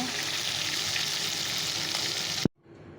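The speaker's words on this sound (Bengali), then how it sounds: "চলো মাছগুলোকে ভেজে নিই" Fish frying in a pan, a steady loud sizzle of hot oil running for about two and a half seconds, then cutting off abruptly to a much quieter, faint background sizzle.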